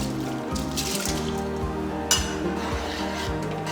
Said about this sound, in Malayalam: നമുക്കിനി ഈ ചെറുപയർ കഴുകിയത് ഇതിലേക്ക് ഇട്ട് കൊടുക്കാം.